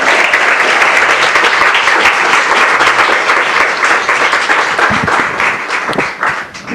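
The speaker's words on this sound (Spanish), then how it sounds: "le brindamos un aplauso" A lecture audience applauds a speaker with loud, dense, sustained clapping that fills the room and begins to thin out toward the end.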